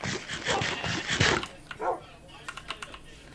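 Tamed dogs in the Minecraft video game give short barks and whimpers, with a person talking and keyboard typing in the background.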